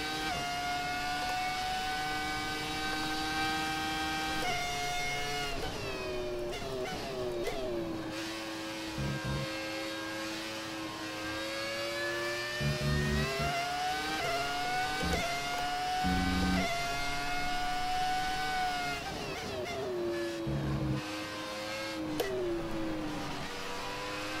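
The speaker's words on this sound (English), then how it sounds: "Oh, listen to this car." V10 Formula 1 car engine in the F1 2018 racing video game, a high-pitched whining engine note rising and falling through gear changes and revs, loud and continuous with no talk.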